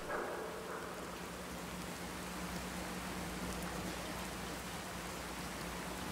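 Steady rain falls in the Fallout 4 video game, a dense, even hiss of drops that holds constant throughout with no voices.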